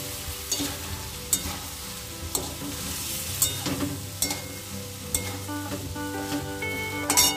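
Mixed vegetables fry and sizzle in a pan with a dry-roasted spice mix of cumin, coriander, dried chilli and turmeric, with repeated sharp clatters of a spoon stirring against the pan throughout.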